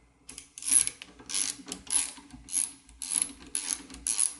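A screw is turned out of the tilt valve lever fixture on a Dräger PSS BG4 breathing apparatus valve, giving repeated ratcheting clicks in about seven short bursts, close and moderately loud, with no talking.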